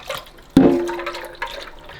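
Warm water rinsing a removable part of a De'Longhi Magnifica S coffee machine, a sudden close splash followed by running, trickling water and small drips, moderately loud with no speech.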